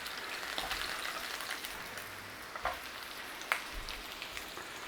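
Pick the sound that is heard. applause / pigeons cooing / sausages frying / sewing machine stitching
sausages frying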